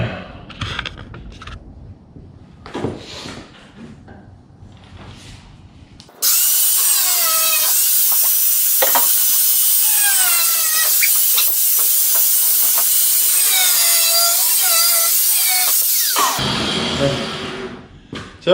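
A power cutting tool slices pieces off metal while building a horse-drawn hearse, starting abruptly as a loud, steady, high whine with shifting pitch that holds for about ten seconds before stopping.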